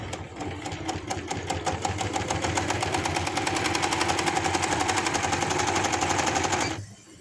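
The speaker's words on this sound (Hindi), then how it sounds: "डबल पैर के हिसाब से हम इसकी सिलाई नीचे की तरफ लगा देंगे" A sewing machine runs steadily while stitching a pocket onto a boy's pajama, a fast even mechanical rattle of needle strokes, close and loud, holding for several seconds before stopping abruptly.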